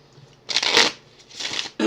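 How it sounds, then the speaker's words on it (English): Two bursts of Onirim game cards being shuffled up close, a longer riffle followed by a second shorter one, with a quick snap of cards at the very end. "let's go ahead and shuffle these back up"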